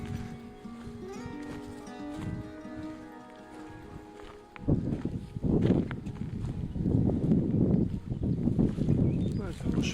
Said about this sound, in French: c'est un beau cheval